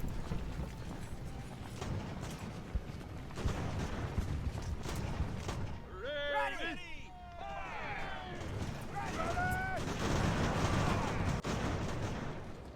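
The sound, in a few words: artillery fire in the video game Ultimate Admiral: Age of Sail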